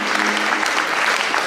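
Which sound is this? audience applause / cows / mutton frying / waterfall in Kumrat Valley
audience applause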